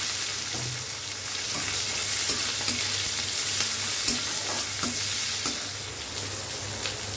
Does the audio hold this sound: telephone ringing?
no